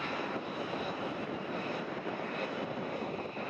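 A steady, even roar of aircraft engines as a flight of two becomes airborne, heard from inside the aircraft as a constant muffled drone with no other sounds.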